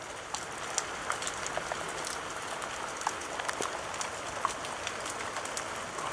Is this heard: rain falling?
yes